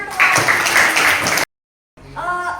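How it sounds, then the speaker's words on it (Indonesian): Applause breaks out in a classroom for a student, a dense burst of clapping that stops abruptly, followed after a short silence by fainter voices. "Tepuk tangan untuk"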